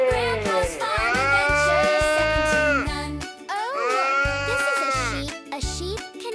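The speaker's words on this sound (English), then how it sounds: "The sheep says "Baa."" Sheep bleating loudly and close, two long wavering baas in succession, each a drawn-out quavering cry with rhythmic low thumps underneath from a backing beat.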